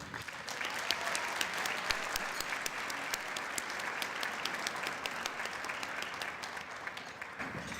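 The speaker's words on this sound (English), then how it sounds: "Please show your appreciation for Rich Bowles, 2008, and Edmundo Hidalgo, 2013." Steady, dense audience applause at an education heroes awards ceremony, sustained clapping from a large crowd without pause.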